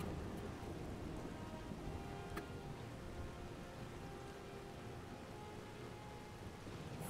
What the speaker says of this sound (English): It's so dark and rainy,